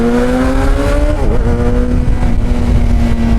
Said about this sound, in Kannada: ಇದನ್ನಪ್ಪ ಎಕ್ಸಾಸ್ಟ್ ಅಂತೂ.